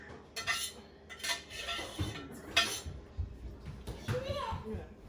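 A utensil scrapes and clinks against a pan while lasagne is being made, the scraping and clattering coming in repeated bursts close by, with someone talking throughout.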